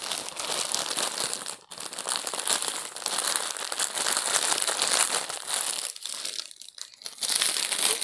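Plastic bag crinkles loudly and continuously as toy packaging is unwrapped up close, with brief pauses and renewed rustling bursts near the end.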